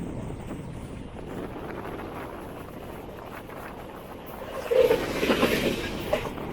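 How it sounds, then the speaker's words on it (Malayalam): The Kerala Express rumbles past on the line near Shoranur, a steady low roar mixed with gusting wind noise that swells louder toward the end as the train draws close. "ഇതാണ് കേരള എക്സ്പ്രസ്."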